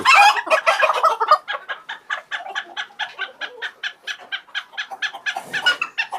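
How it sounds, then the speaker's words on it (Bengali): Silver Cochin chickens on a poultry farm cluck in a close, rapid, rhythmic series of short calls, loud at first and then steady, with no talk. "এটা হচ্ছে সিলভার কোচিং"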